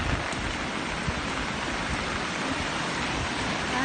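Heavy storm rain with rushing flowing water in a rural stream, a dense continuous roar that stays steady and loud throughout, no voices.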